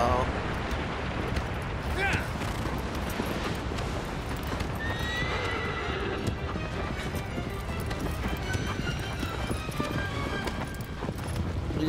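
Horse galloping in the Shadow of the Colossus video game, a steady clip-clop of hooves with a neigh, under rumbling game sounds and someone talking throughout.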